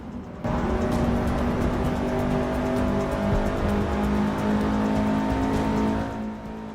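Race car in Forza Motorsport 6 driving around a circuit, a steady loud engine drone holding near-constant revs for several seconds before easing off at the end, with no talk.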